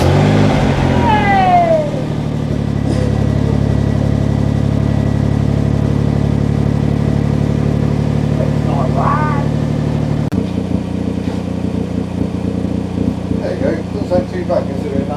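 A Daihatsu car engine cranks and catches, then idles and revs in a loud, close, rumbling run, with the tone shifting partway through.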